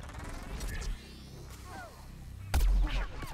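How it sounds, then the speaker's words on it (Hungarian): Bombs exploding in the video game Plants vs. Zombies Garden Warfare, with a heavy booming blast near the end amid rumbling game noise and whistling effects. "Igen, azok bombák. Azok robbannak, vigyázz vele."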